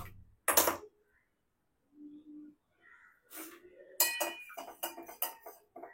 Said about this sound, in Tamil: அதுல நான் இவனுக்கு தேவையான அளவு பவுடர் போட்டு நல்லா மிக்ஸ் பண்ணி விட்டுட்டு